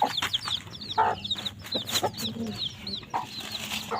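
Small young chickens cluck and chirp in a busy, overlapping cluster close by, with high peeping calls scattered among lower clucks and no talking.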